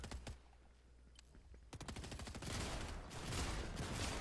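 Rapid automatic gunfire in the Fortnite video game, a short volley followed by a longer sustained burst of fast, loud shots, with no talk over it.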